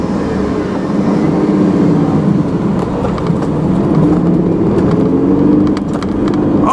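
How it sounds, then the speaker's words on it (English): A Ford F-150 pickup's V6 engine revs, heard from inside the cab as a loud, rough, low rumble that holds fairly steady and swells slightly over several seconds. "Let's rev it up, roll our window down. Engine sounds good. That has got to be a V6."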